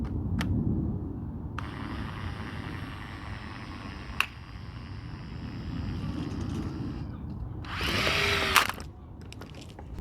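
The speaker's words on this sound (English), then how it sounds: "Now I'm going to test each strut to see if one of the motors is broken." A Corvette C4 auto tailgate strut motor, powered straight from a battery through probes, gives a faint, thin whine for a few seconds with small clicks, followed by a short louder burst of buzzing.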